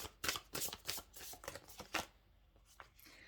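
Oracle energy cards being shuffled by hand in a quick run of crisp riffling bursts, close and fairly loud, then tapering into a few softer flicks and a quiet pause.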